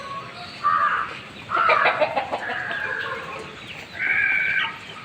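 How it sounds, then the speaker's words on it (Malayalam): Hens brooding in a small farm flock of country and black (Kadaknath-type) chickens give several loud bursts of clucking and crowing-like calls, close by over steady rustling background noise. "ഇത് അടയിരുന്ന കോഴികളാണ്."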